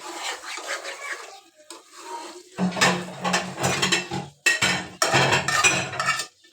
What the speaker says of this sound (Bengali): ভেজে নিচ্ছি এই মাংসটা